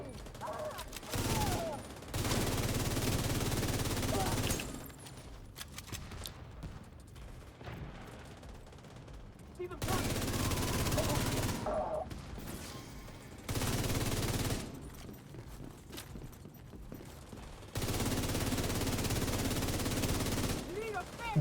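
Bursts of gunfire from a video game level, arriving in several sustained loud blocks separated by quieter stretches, with dense rattling shots throughout.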